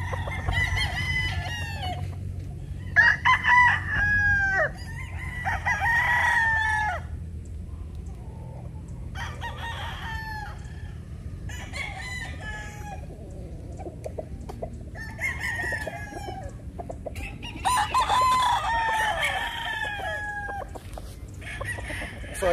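Roosters crow again and again in drawn-out calls while other chickens cluck between them, fairly close and moderately loud over a low background rumble.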